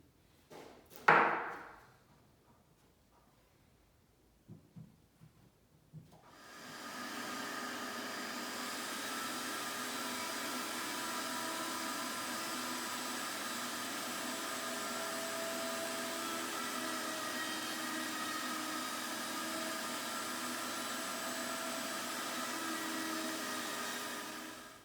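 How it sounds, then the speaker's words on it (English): Router cutting wood held on bench cookies; after a few quiet knocks, the motor spins up and holds a steady, loud, even whine for the remaining twenty seconds with no talk. "Let's go ahead and test them out with the router."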